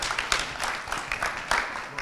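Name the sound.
audience applause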